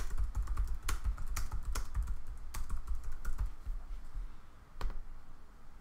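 Quiet, scattered clicks of typing on a computer keyboard sound close by, with irregular single keystrokes over a soft background hum and no talk.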